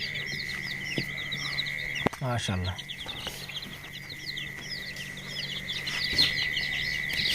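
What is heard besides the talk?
chickens clucking, white rooster and hens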